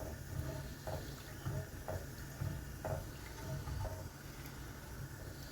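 Sugar mixture simmering over medium heat in a pan, a soft steady sizzle with faint regular stirring scrapes about once a second, quiet and close, no talking.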